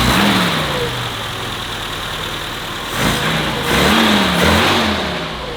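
A BMW 2002 engine idles loudly nearby, then gets blipped in quick revs that climb and fall in pitch, with two or three swells in the second half.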